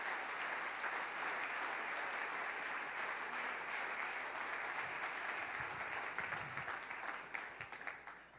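A church congregation applauds, a long, even wash of clapping from many hands that holds steady for several seconds before thinning slightly at the end.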